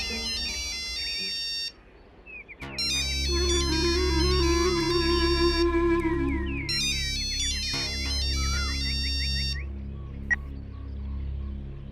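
A mobile phone ringtone plays a repeating electronic melody in bursts, loud and close with no voices over it, ringing on unanswered.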